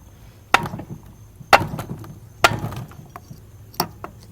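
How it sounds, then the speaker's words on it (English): A small hammer taps a Dana 44 axle shaft in four sharp, ringing metallic strikes about a second apart, close and loud in a quiet workshop. "So we take ourselves a little hammer and put it up against this little nipple"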